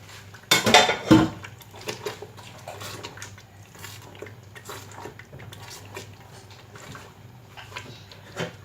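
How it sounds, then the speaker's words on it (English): Dry fish drops into a pot of banga soup with a couple of loud clattering knocks near the start, followed by soft scattered clinks and bubbling kitchen sounds. "I will go ahead by adding my dry fish"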